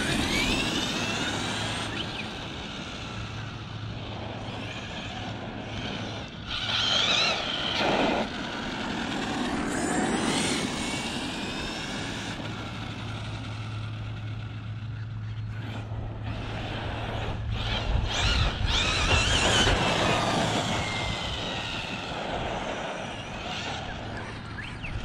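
An Arrma Kraton V3 6S RC car fitted with a Hobby Star 4092 motor and Max 6 ESC whines and revs in steady bursts outdoors, its tone rising and falling with throttle, fairly close.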